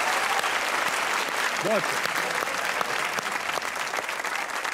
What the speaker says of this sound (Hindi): वेल डन, ताली होनी चाहिए इसके लिए यार।